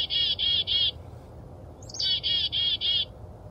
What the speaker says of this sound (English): That's kind of a little bit of an alarm call.